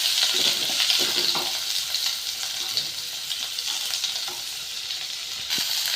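Onions and green chillies frying in a pan for a quick sambar, a bright, steady hiss of sizzle close up, with occasional soft stirring scrapes and taps, no talking.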